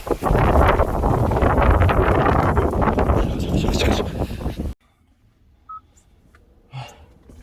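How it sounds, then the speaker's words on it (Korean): Wind still blows after typhoon rain, heard as loud, gusty buffeting on the microphone for several seconds before it cuts abruptly to near quiet with a few faint sounds. "아직 바람은 불고 비는 그쳤네"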